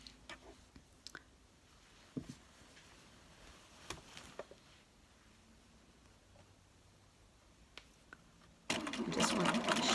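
A Bernina sewing machine fitted with foot 64 sews a narrow turned hem. Scattered soft clicks and handling taps come first, then the motor starts near the end with a loud, steady whir.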